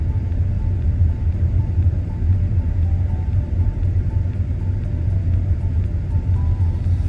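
A car drives over a freshly resurfaced, rough and rocky road, giving a steady, loud low rumble with constant road noise throughout and no voices.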